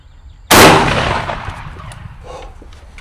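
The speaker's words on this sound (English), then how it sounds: "Slug versus block of lead" A single shotgun slug fired at a block of lead: one sharp, loud, close blast with a long rumbling decay that trails off over the next few seconds.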